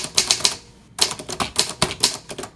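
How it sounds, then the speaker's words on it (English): A vintage Olympia manual typewriter clacks as keys strike one after another in a quick, uneven rhythm, with a brief pause near the start, close and crisp with no voice. "I'm typing hello."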